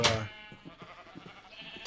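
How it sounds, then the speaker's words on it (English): Sheep in the video game Minecraft give short bleats, one sharp burst at the start and another at the end, with a soft low murmur between. "So here are Carlos and the sheep"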